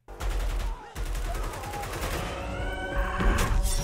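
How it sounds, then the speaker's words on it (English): Bursts of automatic fire from an AK-5C rifle in Battlefield 2042, a fast, loud, close chatter that starts almost at once, breaks for a moment just before one second, then continues steadily to the end. "that was the AK-5C, I think"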